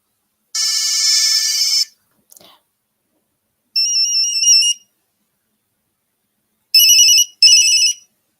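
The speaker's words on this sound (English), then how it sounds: "Which one of these ringtones did you have?" Phone ringtones play one after another in short, loud electronic bursts: a long tone, then a melodic chirping pattern, then two quick repeated rings, separated by silence.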